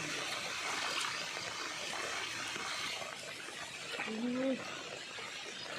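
Water rushing steadily past a flooded rice-field hut in rural Thailand, a continuous broadband wash heard nearby throughout, with faint voices talking in the background.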